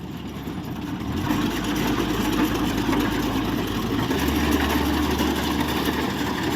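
A rice harvester's engine runs steadily through a night harvest, a loud, continuous low rumble that deepens slightly partway through, with no talking.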